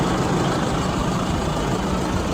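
A DTZ 1204 tractor with a front loader idles nearby, a steady loud low diesel rumble with no change in pace throughout.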